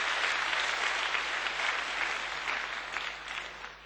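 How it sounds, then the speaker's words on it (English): An audience in a large assembly hall applauds school spokespersons, a sustained wash of many hands clapping that stays full and even before tapering slightly toward the end, with a faint low hum beneath. "Je vous demanderai d'applaudir encore une fois tous les porte-paroles qui sont venus se présenter."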